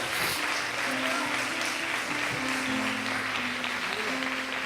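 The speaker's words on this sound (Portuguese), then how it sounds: "pode aplaudir" A church congregation claps steadily during a worship service, a moderately distant mass of applause with voices calling out and murmuring underneath.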